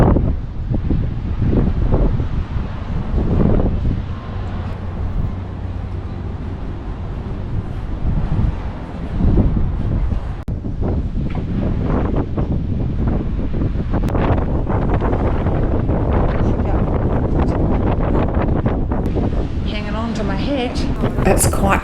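Strong wind buffets the microphone in gusts throughout, with rushing, roaring bursts and a voice talking beneath it, near Brisbane's Sky Deck in the CBD.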